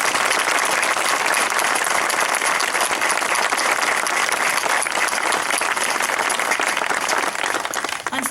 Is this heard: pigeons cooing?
no